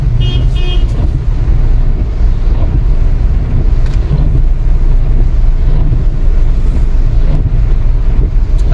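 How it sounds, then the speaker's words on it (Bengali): Heavy rain pounds a car waiting in the lorry queue at the Palsit toll plaza. It makes a loud, continuous roaring wash throughout, with a brief horn-like toot near the start. "প্রচন্ড জোরে বৃষ্টি এসছে"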